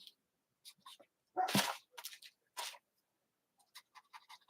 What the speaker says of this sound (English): can you stop barking, dog? I can hear my dog going crazy.